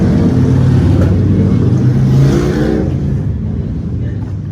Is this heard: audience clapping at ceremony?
no